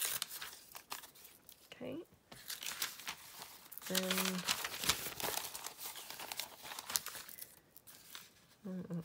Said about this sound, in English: So just going to tear that one down.